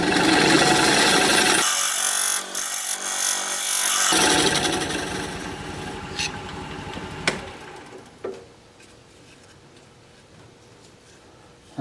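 A wood turning tool used as a scraper against spinning wood on a lathe gives a loud continuous rasping scrape under the motor's hum, which fades as the lathe winds down near the end.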